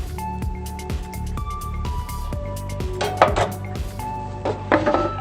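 A metal heat deflector is set into a Fornoteca Duetto pizza oven during assembly, making a series of clanking metallic knocks and scrapes with ringing tones, with louder clatter toward the end.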